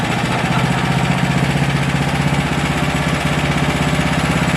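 An MXR212 or MXR420 small engine fired up for the first time, running with a steady, rough, chugging idle that is loud and close and holds throughout.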